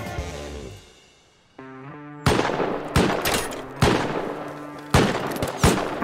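Gunshots in the survival game Rust ring out as five or six sharp, loud cracks spaced unevenly over a few seconds, after a quieter stretch of tonal, droning sound.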